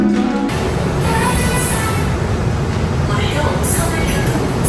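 Inside an empty moving subway car, a loud, constant rumble and rattle of wheels on track fills the space, steady throughout with a faint high hiss and a soft voice underneath.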